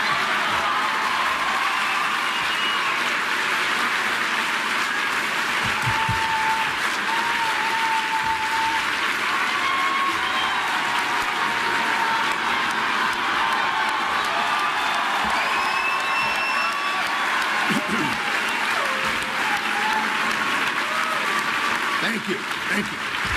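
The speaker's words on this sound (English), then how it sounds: "those of you watching at home may wonder why this is being applauded" A large audience applauds a conservative speaker with loud, continuous clapping mixed with cheers and whoops, sustained and dense throughout, with a few voices calling out.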